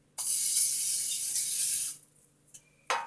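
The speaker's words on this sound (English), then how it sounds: "I will take non-stick spray and spray my cake pan so that it is easier to get out" A short spray of non-stick cooking spray onto a cake pan hisses for about two seconds, then stops, followed by a couple of quick, lighter spritzes.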